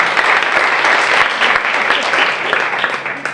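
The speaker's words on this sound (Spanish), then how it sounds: "Pues un aplauso para el..." Applause from a workshop audience fills the room, a dense, steady patter of many clapping hands that keeps up for a few seconds and fades slightly at the end.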